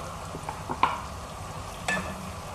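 Black-eyed beans sautéed and stirred in a pan, a steady low sizzle broken by a few soft scraping stir strokes and one sharper clink near the middle, close and moderately quiet.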